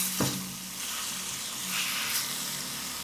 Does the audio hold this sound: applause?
no